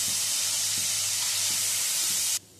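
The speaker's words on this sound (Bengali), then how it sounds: "দিয়ে দেবো কেটে নেওয়া আলুটা। আলুটা ভেজে নেব।" Cut potatoes frying in hot oil in a pan for a traditional Bengali dish, a loud steady sizzling hiss that runs without pause and then cuts off abruptly near the end.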